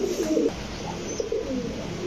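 Pigeons cooing at a pigeon farm stocked with Shahranpuri, Budapest and Golden breeds; soft, low, rounded coos come in two or three phrases over steady background noise, fairly close and moderately loud.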